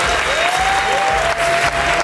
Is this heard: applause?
yes